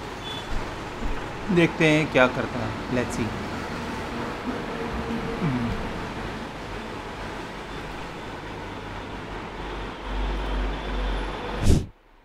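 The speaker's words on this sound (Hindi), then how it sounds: "रोड पे काफ़ी ट्रैफिक है" Heavy road traffic with trucks and buses passing by a room with a fan running, a continuous low rumble under a man's speech, with a loud vehicle swelling near the end.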